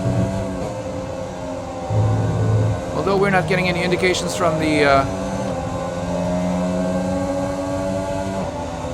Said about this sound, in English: And it does sound like our engine is running a little bit flat.